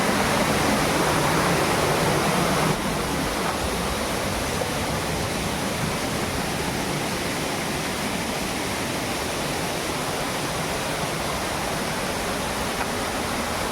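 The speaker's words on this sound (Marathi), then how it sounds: "आणि त्याच्या शेजारी हा आपला धबधबा." A waterfall roars close by in a steady, dense wash of falling water, loud and unbroken throughout, with a slight drop in level after the first few seconds.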